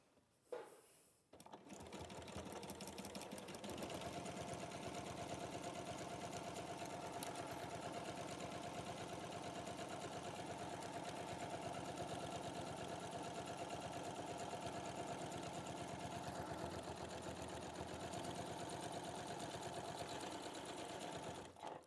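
A sewing machine runs a steady seam at standard stitch length, a continuous close mechanical whir and rapid needle chatter that starts after a brief pause and carries on for about twenty seconds with no talk.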